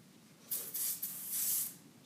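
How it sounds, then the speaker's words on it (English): Gun cleaner is sprayed from an aerosol can onto a cleaning sock for a Beretta shotgun, giving three short close hissing bursts, the last one longest, over a quiet background. "Spray some cleaner on."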